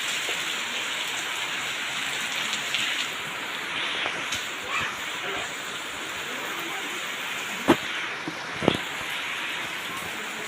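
Heavy rain falls steadily, a dense continuous hiss of drops on surfaces with a couple of sharper knocks standing out near the end, and no talking.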